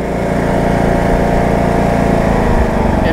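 A John Deere E110 riding lawn tractor mower runs steadily with its blades off, a continuous loud close engine drone that holds even throughout.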